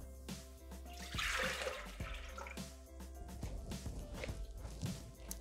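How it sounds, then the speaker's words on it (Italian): Water is poured into a Thermomix TM6 mixing bowl: a brief splashing pour early on, then some trickling and dripping, with faint clinks around it. "Iniziamo la ricetta mettendo all'interno del boccale l'acqua."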